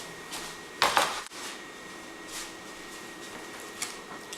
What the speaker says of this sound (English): And I'm going to put in my beans.